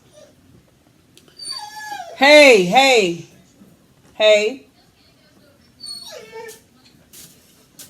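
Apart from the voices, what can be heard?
dog whimpering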